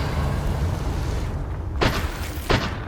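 Fire spell explosions from Confringo in Hogwarts Legacy: two short, heavy bursts land about 0.7 seconds apart, each with a quick crackling tail, set over a constant loud rumbling background.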